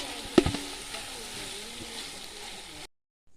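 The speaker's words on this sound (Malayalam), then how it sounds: "ഇപ്പൊ തക്കാളി ഇട്ടോ. നന്നായിട്ട് ഇളക്കി കൊടുക്കാം." Tomatoes added to a chicken curry fry and are stirred, making a steady, moderate sizzle after an opening clatter of the spoon against the pot, then it cuts off abruptly.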